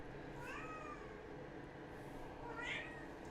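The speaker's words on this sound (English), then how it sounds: "He constantly just lays down and watches me work and then periodically meows at me for food." A hungry house cat gives two drawn-out meows a couple of seconds apart, fairly faint and slightly distant, over a steady background hiss in a workshop.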